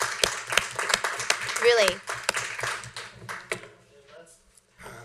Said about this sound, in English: Can we have a clap for this team?